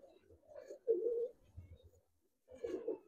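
Giribaz and coloured pigeons kept by a fancier give soft, low, throaty coos in two short bursts with a pause between, quiet and close by.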